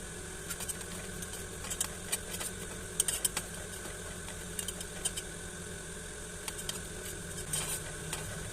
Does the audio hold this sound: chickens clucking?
no